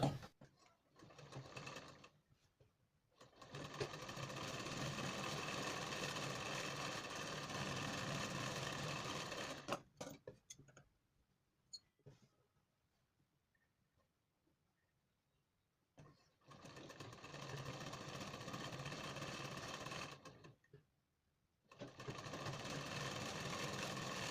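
A sewing machine stitches around a blouse neckline in long steady runs of motor whir, stopping for a few seconds around the middle before starting up again. No one speaks.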